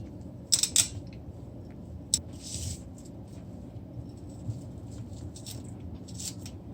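Thyme and scallion being cut, with a few sharp snips and crisp chopping sounds that come in short bursts against a quiet room background, close and fairly faint.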